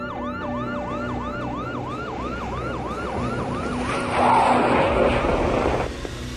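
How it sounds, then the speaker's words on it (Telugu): An ambulance siren wails in steady repeating sweeps, loud and fairly close, over a low road-traffic rumble. No voices are heard. "అంబులెన్స్ని పంపండి."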